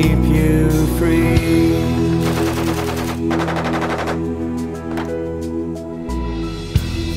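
Loud machine-gun style gunfire effect rattles in rapid bursts inside a patriotic war ballad about a soldier in battle, layered over sustained music throughout.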